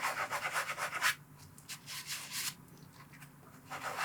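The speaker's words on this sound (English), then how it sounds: "It's going to sand off the outer layer of stain." Sanding pad rubbing over a stained shoe's outer layer to lift the stains, a close, dry scratchy scrubbing in short bursts with brief pauses between strokes.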